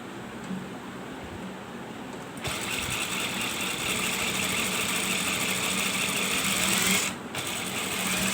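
A sewing machine stitching a ladies' belt shalwar runs with a continuous, close mechanical whir that grows louder after a softer start and briefly cuts out near the end.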